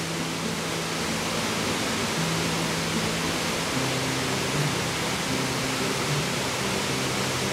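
Freshwater stream flowing on the tablelands, a constant broad rushing wash, steady and fairly close with no speech.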